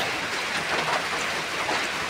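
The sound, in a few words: rain falling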